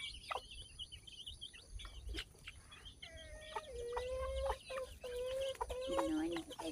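A small farmyard flock of two or three chickens clucking up close in rural Thailand, a run of short repeated clucks and calls over a rough outdoor background, with faint voices nearby.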